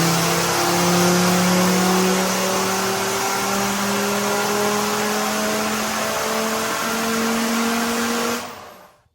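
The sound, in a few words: Mercedes OM605 five-cylinder turbo diesel engine in Land Rover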